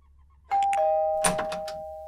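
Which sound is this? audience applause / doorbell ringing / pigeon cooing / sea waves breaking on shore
doorbell ringing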